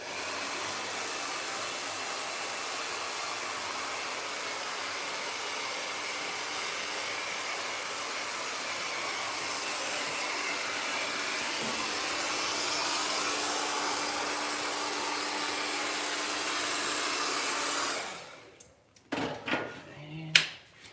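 A hair dryer on its cold setting blows steadily and loudly while hair is styled, a continuous broad whoosh for about eighteen seconds before it switches off, followed by a few handling clicks and knocks.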